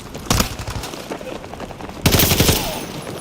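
Gunfire in Battlefield 2042 comes in two loud bursts of rapid shots about two seconds apart, close and sharp, separated by quieter background game sound.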